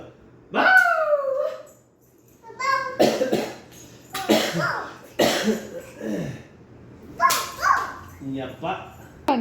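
A voice mimics a dog, letting out several short, bark-like yaps and woofs in uneven bursts, close and fairly loud.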